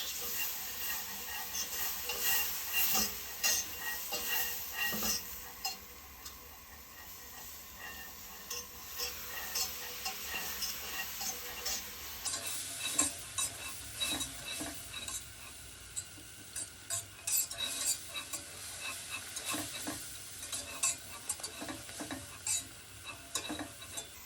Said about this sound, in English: then whisk until the milk has disappeared before you actually add more